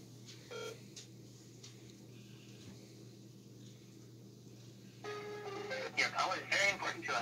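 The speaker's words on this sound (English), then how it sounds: "we're going to try calling him back again on the other phone" Telephone dialing tones play as a scammer is called back on a second phone, with a run of short beeping tones toward the end over a steady electrical hum and faint background noise.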